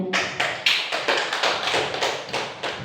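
An audience of teachers at a school session claps together in a steady, even beat, with about eight sharp, close claps evenly spaced and no talking over them.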